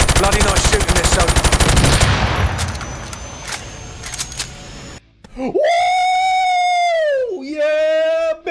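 Rapid automatic gunfire rattles loud and close during a Call of Duty 4 Remastered firefight against troops, fading into scattered shots before a voice rises in an excited shout.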